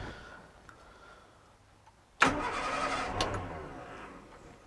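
A Morris Minor engine is primed and choked on a restoration project, then cranks and catches abruptly after a quiet pause, settling into a steady close idle with a brief rev.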